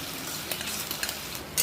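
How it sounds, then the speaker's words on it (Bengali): Ginger, garlic, chili and tomato paste sautéed in a pan give a dense, close sizzle with scraping stirs and a few light utensil clicks, and no one speaks. "এটাকে একটু ভালো করে কষিয়ে নিচ্ছি"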